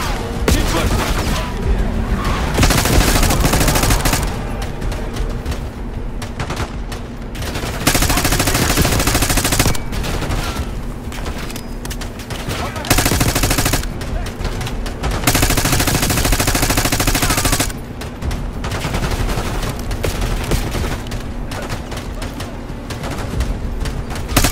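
Heavy automatic gunfire in Call of Duty Black Ops 6, sustained loud bursts and rattling volleys stopping and starting in long blocks, with excited voices shouting over the shooting.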